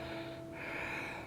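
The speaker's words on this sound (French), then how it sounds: "Encore une longue respiration." A long audible breath drawn and released during a dynamic yoga flow class, a steady airy rush lasting over a second, close and alone without speech.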